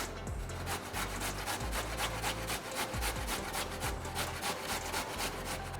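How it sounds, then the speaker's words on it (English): A peeled carrot rubbed over a hand grater in quick, even back-and-forth strokes, a soft rasping rhythm repeating steadily and close up without any talk. "Grab your grater and grate."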